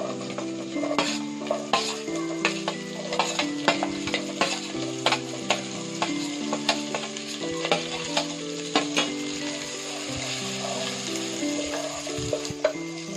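Green chillies and onions fry lightly in a pan for chilli chicken, with a steady sizzle beneath repeated close scraping and clinking of a spatula stirring against the metal.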